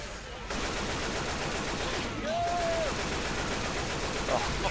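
Minigun fired from atop an RV in Left 4 Dead 2, a dense, unbroken mechanical roar that kicks in after a brief pause and holds steady and loud to the end.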